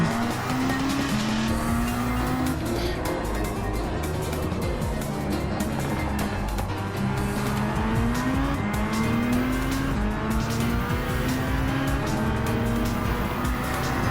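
Race cars, including an SLR McLaren and a Cayman, roar around Fuji circuit in a racing game, with several engines whining up and down through gear changes and tires squealing, loud and continuous with no talk.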